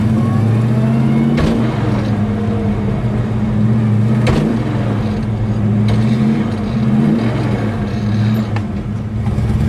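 A 1969 Chevrolet Chevelle SS pulls hard under heavy throttle, its V8 roaring loud and close with rising and falling engine tones through gear changes, a few sharp clunks marking shifts as the car accelerates.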